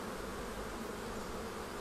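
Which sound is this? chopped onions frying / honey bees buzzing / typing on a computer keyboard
honey bees buzzing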